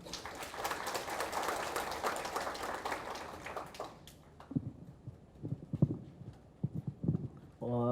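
Audience applause for a professor at a Korean public forum on pesticide residue regulation, a dense wash of clapping that stops after about four seconds, followed by someone speaking close to the microphone.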